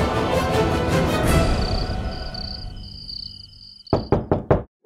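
Knocking on a closed door in a Hindi TV drama: four sharp, loud knocks in quick succession that come right after a fading stretch of dramatic music.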